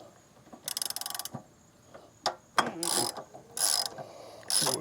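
A ratchet with a 12mm socket backs a bolt out of a Honda GoldWing GL1800 motorcycle, giving a quick run of close, crisp clicking followed by several more short ratcheting bursts and a few metallic knocks.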